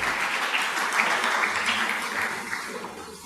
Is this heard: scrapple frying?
no